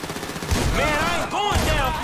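Rapid gunfire from GTA 5 story mode, dense crackling shots running through the whole moment while characters shout over the top.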